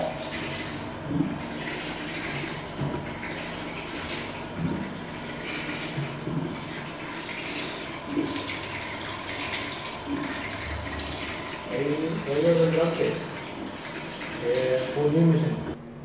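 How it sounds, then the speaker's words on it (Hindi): Water pours into the tank of a battery-operated ride-on scrubber dryer, filling toward its 70-litre maximum. It makes a steady rushing flow with some louder gurgling and splashing near the end. "70 लीटर मैक्सिमम तक उसमें पानी भर रहे हैं"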